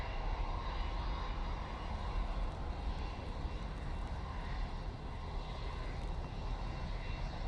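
A Ryanair airliner taking off from Manchester Airport, bound for Bucharest, gives a steady, moderately distant engine roar under gusty wind, with no talk.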